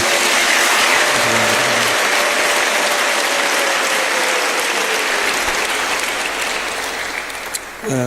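A church congregation claps together to thank God, a loud, dense and sustained wave of applause that fills the space and slowly thins toward the end, with a faint voice briefly heard early on.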